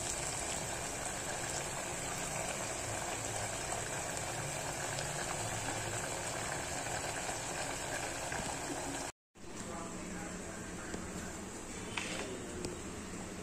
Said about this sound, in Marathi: आता याला छानपैकी उकळी आलेली आहे मस्तपैकी